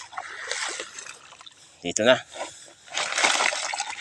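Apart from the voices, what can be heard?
water splashing as fish are released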